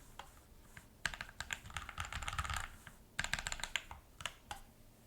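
Quick bursts of clacking keystrokes on a custom-built split Bluetooth keyboard come up close and quiet, with pauses between the runs of typing.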